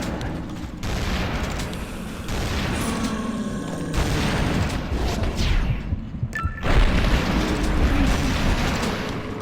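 Heavy shotgun blasts ring out in Tomb Raider: Anniversary, a few booming shots spaced several seconds apart over a rumbling, echoing cave-like background with no talking.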